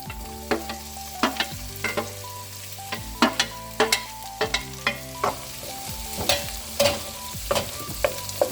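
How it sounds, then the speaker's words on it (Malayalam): Chopped tomato goes into onions fried golden brown for a chicken curry, and a steady sizzle of frying runs underneath while a spoon stirs and clinks against the pan in regular strokes. "ഇനി നമുക്കിതിനകത്തോട്ട് അരിഞ്ഞു വെച്ചിരിക്കുന്ന തക്കാളി ചേർക്കാം"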